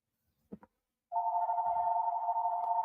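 A phone rings from a private caller, a steady electronic trill that holds from about a third of the way in to the end, preceded by a couple of soft knocks.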